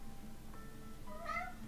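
A single drawn-out cat meow rises near the end, fairly faint against a low steady indoor hum, preceded by a small soft sound.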